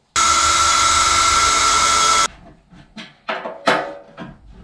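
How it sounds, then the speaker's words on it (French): Power drill boring through a piece of plastic to make screw holes, whining loudly and steadily for about two seconds, then stopping and leaving a few short scraping and rustling handling noises. "L'idée c'est d'essayer de le percer pour mettre les vis"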